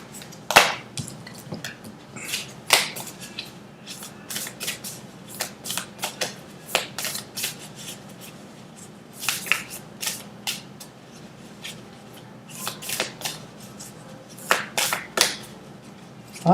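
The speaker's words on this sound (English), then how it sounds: "I like when you shuffle." Tarot cards being shuffled by hand at close range, a series of crisp riffling bursts and taps coming in irregular clusters over a quiet background, with no talking.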